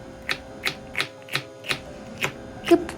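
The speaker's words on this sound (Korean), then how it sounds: "크기는 미리 손질해둔 다른 야채와 비슷한 크기로 잘라주세요" Knife chopping paprika on a cutting board in a home kitchen: eight evenly spaced sharp knocks, steady and close, over a faint background hum with no talking.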